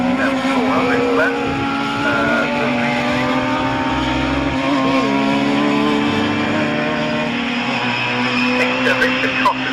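Historic Formula 3 race cars lap Castle Combe circuit at an autumn classic meeting, engines droning and shifting pitch continuously throughout, with a race commentator's voice running over the top.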